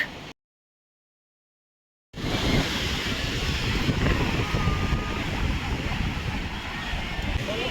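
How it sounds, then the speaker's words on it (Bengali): Surf rolls onto the beach at Puri as a broad, continuous wash of wave noise mixed with wind buffeting the microphone, starting after a brief silent gap and holding steady to the end. "এখন আমরা বিচে চলে এসেছি স্নান করার জন্য"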